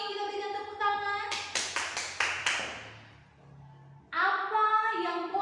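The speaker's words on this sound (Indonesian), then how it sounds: "kita berikan tepuk tangan" A group claps together about six times in a brief sharp burst of rhythmic claps, sandwiched between stretches of a person speaking before and after.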